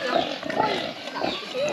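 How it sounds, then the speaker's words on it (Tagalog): Pigs snuffle and grunt as they eat feed at close range, with people talking in Filipino over the noise. "Ngayon naman, panahon na bibigay ng pagkain sa baboy."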